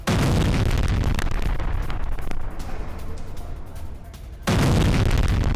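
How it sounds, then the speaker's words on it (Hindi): Explosions from missile strikes in news footage, a heavy rumbling blast that fades into a low roar, then a second loud boom bursts in near the end. "लेबनान से सटे सूला इलाके में सुने गए हैं धमाके"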